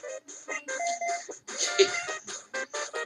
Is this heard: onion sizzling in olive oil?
no